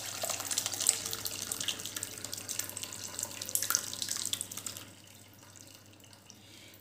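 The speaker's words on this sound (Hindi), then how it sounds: "पानी को हम अच्छे से निकलने देंगे" Whey drains from freshly curdled paneer through a cotton cloth, a steady trickling, splashing pour close by that thins out to a faint drip after about five seconds, with no talking.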